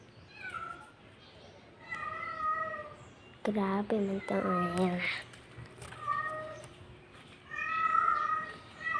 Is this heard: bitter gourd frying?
no